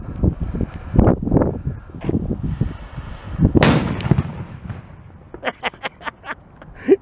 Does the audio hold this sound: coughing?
no